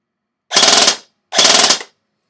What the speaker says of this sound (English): I'm going to dry fire this. Just give you an idea of the trigger response again. Full auto now.